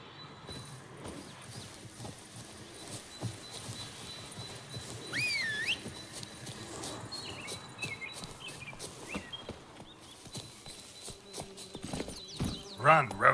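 Roach, the horse in The Witcher 3, gallops with a steady rhythmic clip-clop of hooves, with faint bird calls in the background and occasional game sounds.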